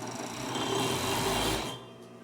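Sewing machine, tension spring finely adjusted, runs a continuous stitching seam on a jacket with a side pocket and yoke, a steady close mechanical whir that slows near the end.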